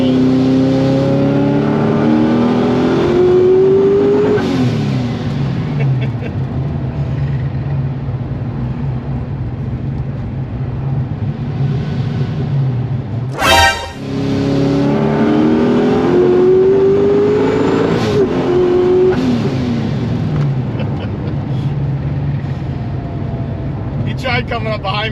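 Corvette C6 Z06 accelerating hard in a third-gear roll, the engine note climbing steadily in pitch twice with a brief break between pulls, loud and close from inside the car, with speech over the engine.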